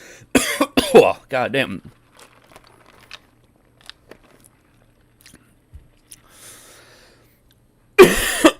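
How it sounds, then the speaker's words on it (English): Several harsh, close coughs burst out at the start, then quiet with faint clicks and small mouth noises, and another loud cough at the end; a man mutters a curse between them. "Sorry, guys, about coughing."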